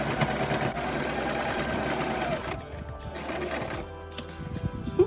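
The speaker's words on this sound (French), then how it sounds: "Et là, on pique avant-arrière plusieurs fois pour bien fixer l'élastique." Sewing machine stitching a three-layer pleated fabric face mask, running in a steady fast whir that eases and restarts partway through, close and fairly loud with no talking.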